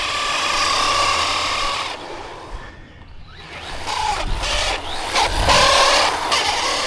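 A LYNXOR brushless budget RC basher car drives past, its motor whine and gear ratchet rising loud, fading briefly to near silence, then returning with revving bursts and rattling over rough ground.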